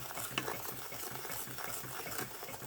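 Sugar being whisked in a pot to melt for Jamaican spice bun, heard as a faint, quick, steady scraping and light metal ticking of the whisk against the pot.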